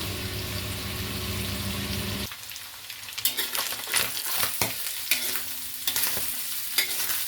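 Pancit bihon guisado frying and being stirred in a pan until golden brown, a steady loud sizzle with clattering stirring scrapes, the hiss dropping briefly partway through then continuing with irregular clanks.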